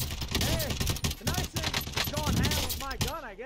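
Rapid gunfire from the video game Warzone crackles in dense bursts throughout, mixed with other game effects and a voice talking over it.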